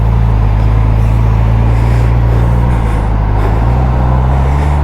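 A 2024 Suzuki GSX-S1000GT with a detuned GSX-R engine pulls away, its engine a loud, close, steady low drone that shifts pitch slightly as it rides along.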